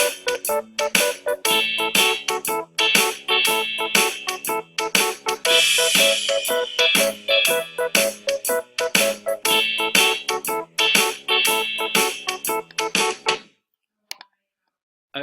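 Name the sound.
layered 12 bar blues keyboard and bass parts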